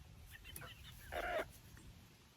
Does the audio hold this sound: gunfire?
no